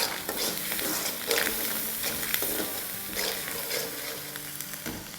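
White parts of spring onions sautéing in a pan as part of a Chinese-style meal, an even sizzle with repeated scraping stirs at irregular intervals, close by and fairly quiet.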